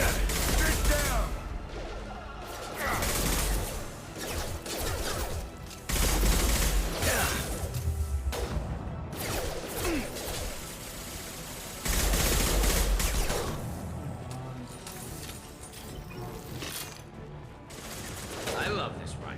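Rifle gunfire in Mass Effect Legendary Edition, repeated bursts of loud shots in clusters amid game combat noise, with spoken voices faint beneath.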